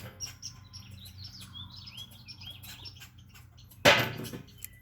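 Several birds chirp and squawk in quick, overlapping calls, fairly close, with a sharp loud burst near the end over a low background hum.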